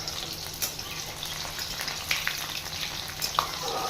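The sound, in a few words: unpeeled garlic cloves frying in oil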